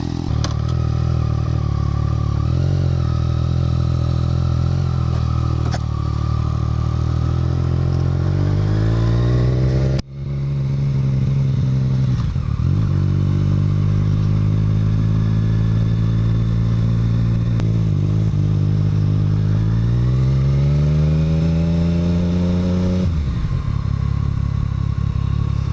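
A Yamaha FZ-09 (MT-09) motorcycle engine runs loud and close with a steady idle hum. It rises and falls through several revs and dips for a moment partway through, and nobody speaks.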